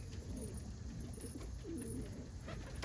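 Dominant opal homing pigeon cooing softly, low rolling coos repeated a few times, faint and somewhat distant over steady background noise.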